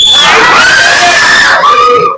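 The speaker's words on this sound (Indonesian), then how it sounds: "Teriakkan semua beban kalian" A group of students shouts out loud together in a classroom, a single sustained, piercing collective yell lasting about two seconds, loud and close, with varied voices blending into a crowd scream.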